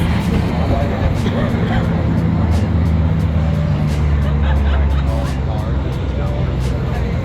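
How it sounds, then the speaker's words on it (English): Race cars lap MSR Houston during a 24 Hours of Lemons endurance race, engines droning and swelling as they pass at a distance over steady background noise, with voices talking over it. "So many freaking cars."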